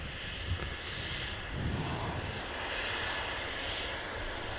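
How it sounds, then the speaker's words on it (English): A Loganair airliner roars on its takeoff run at Manchester Airport, a broad, steady jet engine rumble heard from a distance and holding loud throughout with no talk. "Logan Air off up to Aberdeen"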